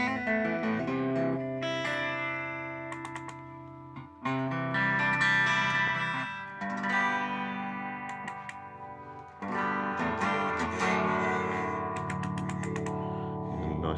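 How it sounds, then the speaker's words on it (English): Electric guitar run through an Uncanny Varitone baritone pedal, sustained chords and notes with deep low end and effects-laden shimmer, loud and continuous with a few restruck attacks. "We've got the Uncanny Varitone, which is kind of a baritone pedal."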